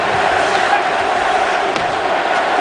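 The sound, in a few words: hockey fans at MCI Center cheering in unison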